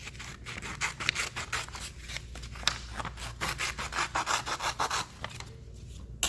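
Close-up scissors cutting through planner or journal paper in quick, rhythmic snips, with a rough scraping edge to each stroke and no talking.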